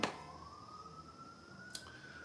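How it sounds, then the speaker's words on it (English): A faint emergency siren outside wails and rises slowly in pitch, with one short click over the low hum of a room. "is there another siren coming?"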